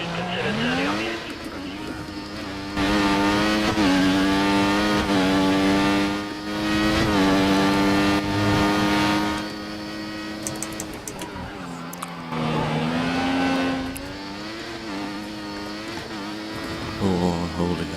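A race car engine in a sim racing game at the German Grand Prix wails steadily, its revs climbing and dropping through gear changes. The engine is loud and close, with brief tyre squeals.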